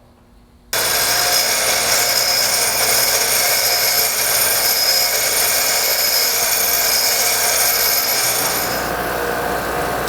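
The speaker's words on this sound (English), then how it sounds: "I'm going to take the time and round off this burr" A power tool grinds steadily and loudly for about nine seconds, rounding off a burr on a battery mount stud for a trunk-mounted battery install; the whine holds constant, then eases slightly near the end.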